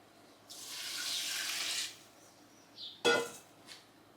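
Water running from a tap into a pot for strawberry jam, a steady close gush for about a second and a half, then a short clatter of the pot and a few small knocks afterward.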